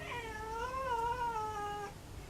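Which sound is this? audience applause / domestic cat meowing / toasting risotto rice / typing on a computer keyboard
domestic cat meowing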